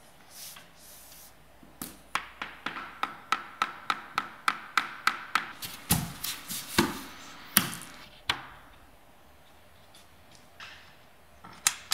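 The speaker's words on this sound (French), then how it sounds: "Puis, tu les relis à celles précédentes avec un marteau et une cale à frapper." A hammer striking a tapping block to knock snap-together laminate floor boards into place: a steady run of about twenty close, sharp knocks in quick rhythm, pausing, then a few scattered final taps, with no talk.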